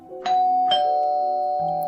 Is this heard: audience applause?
no